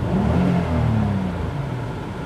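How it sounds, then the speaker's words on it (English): A 1996 Nissan Maxima 3.0i idles steadily outdoors, a smooth low engine hum with faint humming tones and a soft whir, close and continuous without talk. "that's what the engine sounds like."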